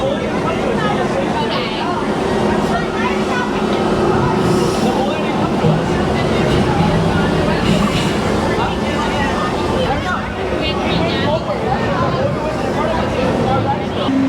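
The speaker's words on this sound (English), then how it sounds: "Welcome aboard the Disneyland Monorail." Disneyland Monorail train rolling in at a theme park, a steady loud mechanical rumble and whine with crowd chatter and voices throughout.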